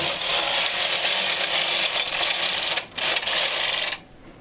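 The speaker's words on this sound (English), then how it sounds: "First, we are going to move our lace carriage from left to the right." Brother punch-card knitting machine with its lace carriage pushed across the needle bed from left to right, a loud continuous rattling, clattering slide lasting about four seconds, with a brief dip near the end before it stops.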